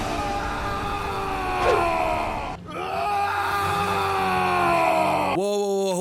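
A strained scream effect from the animated film Alpha & Omega stretches over several seconds and breaks off abruptly, followed by a short rising cry at the end.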